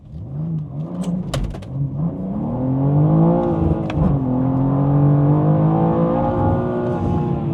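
A 2024 BMW M2 with a manual gearbox launches hard from a standstill with stability control on. The engine roars loudly and steadily as it pulls through first and second gear. It is close and continuous, with no talk.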